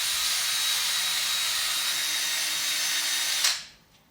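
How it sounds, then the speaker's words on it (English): A power drill whirs steadily with a harsh, gritty high-pitched scrub of a wire brush on a corroded bolt, then winds down and stops near the end. "so we're gonna wire brush it with the drill real quick"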